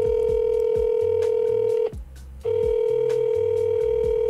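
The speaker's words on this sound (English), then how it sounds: "There's no way Slab doesn't pick up the phone." Outgoing phone call ringing out, a steady electronic ringback tone that cuts off briefly and resumes, with a low rhythmic beat of background music underneath and no talking.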